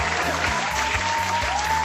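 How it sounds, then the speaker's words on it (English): Applause breaks out during a drone racing hangar show, a steady wash of clapping held at even loudness for a couple of seconds while music plays underneath. "We'll give you an applause for that one."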